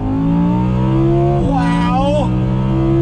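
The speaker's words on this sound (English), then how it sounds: "The sound of that V10, oh my Lord." A 2020 Audi R8 Spyder V10 accelerating hard: a loud, rising engine howl climbs steadily, then a quick gear change drops the pitch before it climbs again, heard from inside the open car with no talking.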